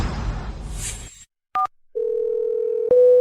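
A telephone call connects with a short electronic beep pair, then a steady continuous tone, and another sharper tone near the end, all loud and close with no voices, following a brief stretch of background noise.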